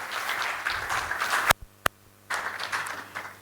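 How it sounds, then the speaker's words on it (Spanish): Audience applause for a university lecturer after a talk on socio-ecological observatories, a dense burst of clapping that cuts out abruptly, leaving two sharp clicks, then resumes. "Un aplauso nuevamente para el"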